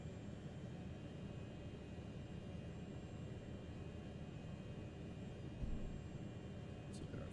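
BN2 Trislander engine at low idle in a flight simulator game, a faint, steady, low rumbling drone that holds evenly with little change.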